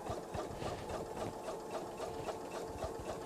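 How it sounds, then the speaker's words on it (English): A sewing machine stitching binding onto a quilt runs in a quiet, steady rapid patter of needle strokes, close by and alone, with no voices. "And now we're going to sew."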